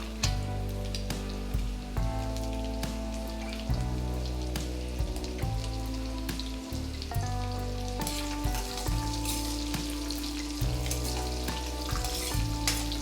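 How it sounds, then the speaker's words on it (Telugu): Chopped medium onion sizzles steadily in a hot pan with mustard seeds, a continuous frying hiss that sits under loud, prominent background music for the whole stretch. "ఒక మీడియం సైజ్ ఉల్లిపాయను చిన్న ముక్కలుగా కట్ చేసి వేసుకొని ఫ్రై చేసుకోవాలి"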